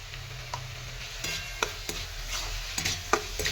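Turmeric powder and salt frying in hot oil while being stirred, giving a steady low sizzle with scattered scraping and tapping clicks from the spoon against the pan, close by.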